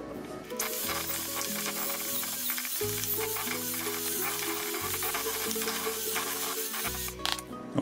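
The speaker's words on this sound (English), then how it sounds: "now we just need to use our mixer to mix that up until it's nice and smooth." Electric mixer beating a cup of sugar into batter in a bowl, a steady close whirring motor hum with a swishing, scraping texture that shifts pitch slightly partway through.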